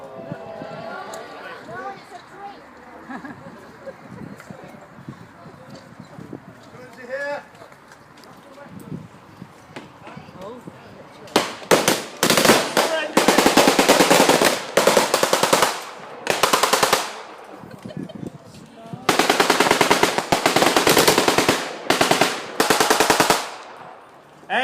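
Blank rounds fire in rapid machine-gun bursts at a war reenactment in Rawtenstall, loud and close, coming in long stuttering strings after a quieter stretch of crowd chatter and talk.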